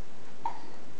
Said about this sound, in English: Got a little bit of hiccups?